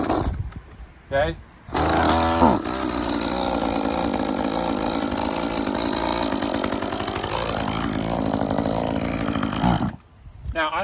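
A chainsaw is started with its chain brake engaged: a couple of quick pull-cord bursts, then the engine catches and roars loud and steady for about eight seconds before cutting off. A voice briefly speaks.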